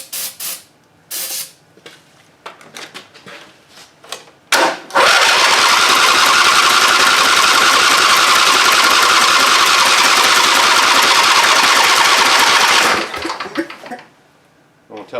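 An abandoned Husqvarna engine being brought back to life: a series of short cranking bursts and clicks, then it catches and runs with a loud, steady buzzing roar for about eight seconds before cutting out.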